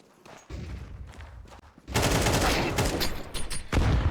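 Desert Eagle pistol shots in a competitive online shooter match, sharp cracks that give way to a dense, loud burst of gunfire and clatter in the second half.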